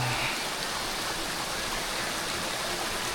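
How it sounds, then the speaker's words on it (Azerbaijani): Mountain springs and waterfalls on the Annapurna trek in Nepal, a steady, loud rush of falling and flowing water filling the whole moment without a break. "Bulaqlar, şəlalələr, hamısı birində."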